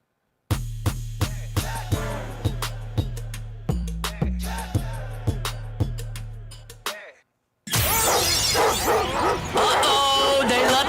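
A dog sound effect of repeated loud barks and yips in a steady rhythm, about a dozen sharp calls, followed after a brief gap by a dense burst of louder broadband noise.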